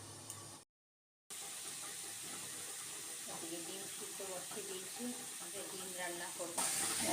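Bottle gourd curry with fried lentil dumplings sizzles and bubbles in a wok, a steady frying hiss with stirring clinks after a brief silent gap, and someone speaks over it.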